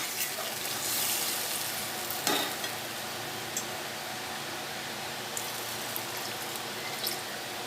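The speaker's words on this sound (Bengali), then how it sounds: "এবার আমি জল দিয়ে দেবো খুন্তিটার ওপর।" Water splashed over a spatula into spice paste frying for a Bengali pointed gourd and potato curry, a loud hiss and sizzle near the start, then steady frying with occasional scraping clicks, no voices.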